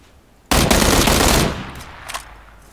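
Burst of AK rifle fire in the video game Battlegrounds: about a second of rapid, loud automatic shots close by, ending abruptly, with a faint echoing tail and a small later crack.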